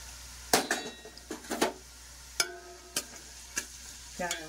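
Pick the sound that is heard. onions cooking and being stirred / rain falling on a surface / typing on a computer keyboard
onions cooking and being stirred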